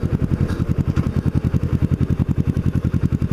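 A Kawasaki Ninja motorcycle engine thrumming close by in a steady rapid pulse, rising and settling as the bike rides along, with no speech over it.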